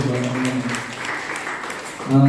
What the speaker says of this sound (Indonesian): Ya, aplaus dulu.